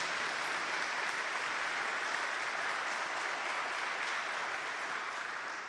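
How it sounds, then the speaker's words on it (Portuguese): Audience applause during a Catholic talk, a sustained even roar of many hands clapping at moderate level for several seconds, with no voices over it. "Uma salva de palmas para o Papa João Paulo II."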